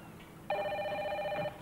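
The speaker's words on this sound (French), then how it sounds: "Milou, au téléphone" A telephone rings once indoors with a steady electronic tone lasting about a second, clear against a quiet room background with no speech.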